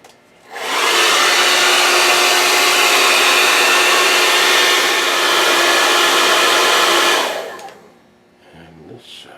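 A heat gun or hair-dryer-style blower heating a guitar nut on a Fender Strat for removal, a steady loud broadband whoosh for about six seconds, then switching off to quiet handling noises.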